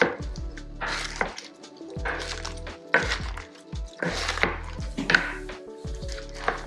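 Italian salad being tossed with seasonings in a bowl, soft repeated clatters and rustles of leaves and utensils against the dish in irregular bursts, close and moderately quiet, no talking.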